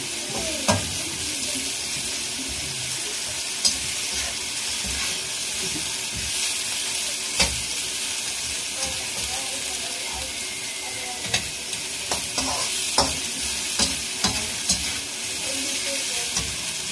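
Vegetables for pancit bihon stir-fried in a hot pan, a continuous loud sizzle with scraping stirs and clinks of the utensil against the pan.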